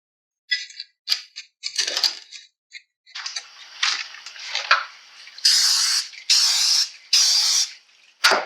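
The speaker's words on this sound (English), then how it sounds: "your nonstick cooking spray." Several short hissing bursts of nonstick cooking spray coated into mini tart pans, preceded by light taps and clinks of the pans being handled, close and fairly quiet with no talking.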